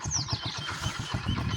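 A motor installed beside a farm canal starts up and runs with a loud, steady, rhythmic chugging thump. No one speaks.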